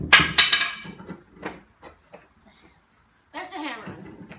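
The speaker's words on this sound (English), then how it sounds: "That's a hammer." Sledgehammer striking a water heater tank, with three sharp metallic bangs in quick succession followed by scattered lighter knocks and a final clatter, a voice speaking between the impacts.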